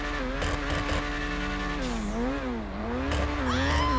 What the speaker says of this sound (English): And you can hear there is a turbo on this.